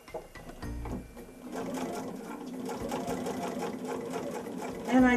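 A sewing machine fitted with a walking foot stitches quilt binding with a 1/4 inch seam, a steady close motor whir with a brief start and pauses, running continuously and fairly loud on its own.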